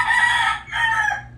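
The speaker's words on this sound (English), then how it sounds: "besides the rooster crowing" A rooster crows close and loud in two long strained calls, the second tapering off, with no talk over it.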